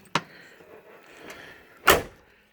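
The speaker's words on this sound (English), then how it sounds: "You can see the door shuts nice anyways" Two sharp thuds of a Buick Grand National car door shutting, a lighter click first and a louder, solid slam near the end, with quiet between.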